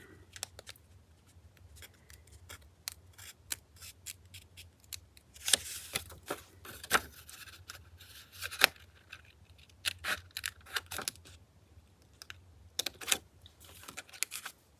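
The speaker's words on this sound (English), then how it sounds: "I'm not going to cut it right up next to it because it's so thin" Scissors snip thin paper for a collage in scattered crisp cuts, some in quick clusters and others spaced apart, close by with no speech.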